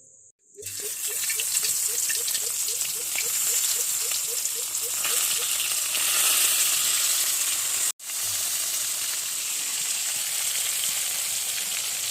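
Breadcrumb-coated fish fries in a wok over low heat, giving a loud, steady, close sizzle that holds for the whole stretch, broken only by a brief dropout near the end.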